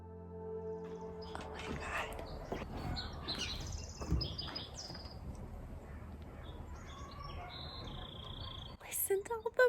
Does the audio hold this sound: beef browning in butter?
no